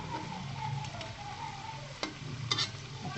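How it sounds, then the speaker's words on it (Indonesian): Cassava snack coated in fine breadcrumbs frying in hot oil, a steady close sizzle with a few sharp crackles and pops near the end. "kita akan teruskan gorengnya sampai selesai"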